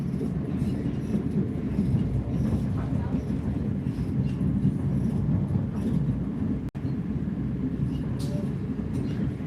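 Train riding from Loznica to Belgrade in Serbia: a steady low rumble and rattle of the carriage in motion, with faint murmuring voices and small clicks over the continuous noise.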